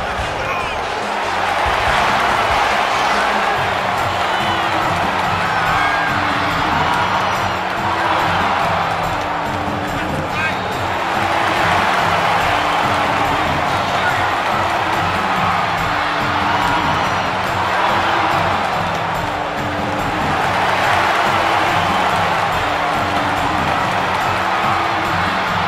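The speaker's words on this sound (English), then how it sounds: "Listen to this crowd, guys. They're fired up for this one." A crowd in a wrestling arena cheering through a WCW Monday Nitro match, a loud steady roar that swells and eases over the whole stretch, with rhythmic thumps underneath and voices talking throughout.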